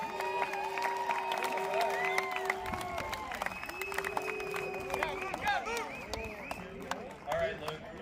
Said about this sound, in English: I want you to give a round of applause for Luke's family.